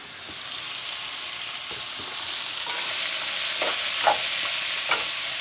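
Ginger sizzling in a hot pan as it sautés with beef, a steady frying hiss that builds slightly, with a few stirring clatters and no talking.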